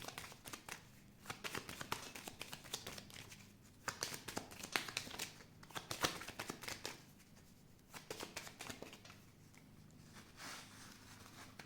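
Tarot cards are shuffled and drawn by hand in repeated papery bursts of riffling and slapping, close and moderately quiet, with short pauses between flurries and no talking.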